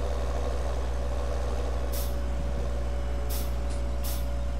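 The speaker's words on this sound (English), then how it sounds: "There's like tons of cars out." Heavy road traffic in Farming Simulator 17, with a constant low engine rumble from trucks and cars and several sharp air-brake hisses bursting out near the middle and end.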